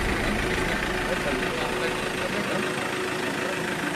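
A vehicle engine idles steadily while the vehicle is backed up at a roadside accident scene, a constant low rumble close by with muffled voices underneath.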